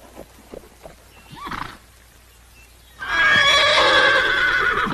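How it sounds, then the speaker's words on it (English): Faint hoof thuds and rustling give way to a loud, drawn-out horse neigh that carries to the end. "Who brought that horse here?"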